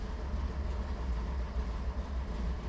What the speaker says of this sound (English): We can now check our fuel pressure while the engine is running.